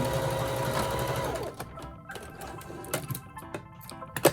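Sewing machine stitching forward and backward on a fabric face mask, a close whirring run that stops partway, followed by faint clicks and handling noises.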